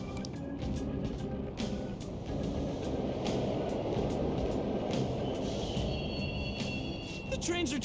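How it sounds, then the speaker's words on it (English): Subway trains running through Mementos in Persona 5 Royal make a loud, continuous rumbling roar with metallic rattles and clatter that carries across the whole stretch. "The trains are totally running!"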